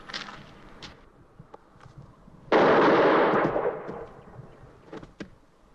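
A single loud, sharp gunshot rings out in the 1973 film Westworld, a sudden broad blast that decays over about a second and a half. Quieter scattered sounds come before and after it.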